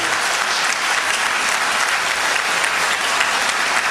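Loud, dense applause from an audience at a humorous poetry recital fills the space continuously, a thick steady wash of clapping welcoming a poet who performs his verse in song.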